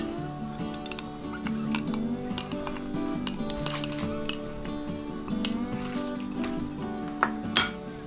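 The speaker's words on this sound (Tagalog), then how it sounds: "Yan, hahaluin lang po natin." Spoon clinking lightly against a bowl as evaporated and condensed milk are stirred into mashed avocado for ice candy: soft, repeated taps and scrapes heard under steady background music.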